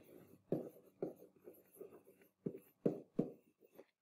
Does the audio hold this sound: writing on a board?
yes